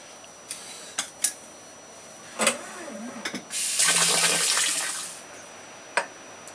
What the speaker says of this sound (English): we're going to need to add quite a bit of now cold water to this mix